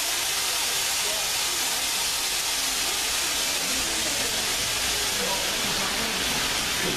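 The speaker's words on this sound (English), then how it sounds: "Let's get any excess steam in the cylinders." Steam locomotive 7029 Clun Castle vents excess steam from its cylinders in one loud, continuous roaring hiss that fills the whole stretch without a break.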